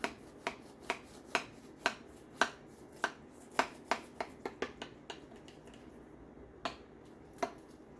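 A knife cuts crisply through the crunchy topping of a hamburger pie, giving a close run of sharp cracks and scrapes at an uneven rhythm that thins out toward the end, with no talk.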